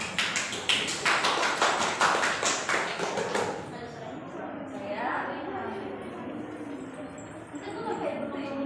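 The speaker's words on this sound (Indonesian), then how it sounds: "Mari kita beri tepuk tangan." Classroom students clap together in a short burst of rhythmic, fairly loud hand claps that fade out after a few seconds, followed by talking voices in the room.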